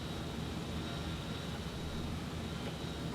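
Droning B-17 bomber engines in a World War II flight game, a steady unbroken roar of aircraft engines filling the scene with no talk over it.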